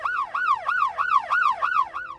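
Hyper help tone from an ambulance siren: quick, loud upward-sweeping whoops repeating about three times a second, each one dropping away sharply before the next begins.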